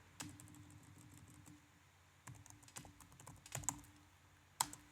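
Clicky keystrokes on a computer keyboard entering a command line, short runs of taps with pauses between them, faint and close in an otherwise quiet room.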